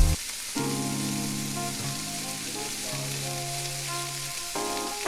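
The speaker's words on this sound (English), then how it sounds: "we're just trying to brown our sausage" Andouille sausage browns in a hot pan with a steady, close crackling sizzle that runs throughout, alongside a low sustained hum.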